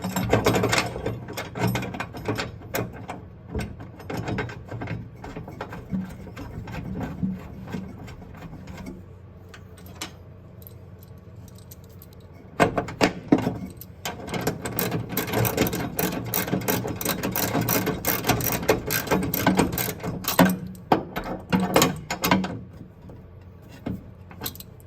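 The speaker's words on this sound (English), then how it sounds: "Now we're going to put the bolt on." Someone fastens a bolt on a Porsche 914 trunk lid hinge. Close, irregular metallic clicks and ratcheting taps continue throughout, with a few louder bursts in the second half.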